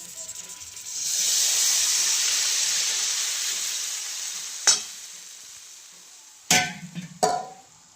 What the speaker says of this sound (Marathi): गरम केलेलं पाणी टाकून घेते